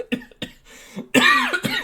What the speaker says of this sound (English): I apologise if I'm coughing and making weird noises.